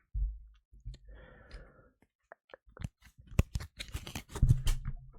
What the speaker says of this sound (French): j'ai fait tomber des cartes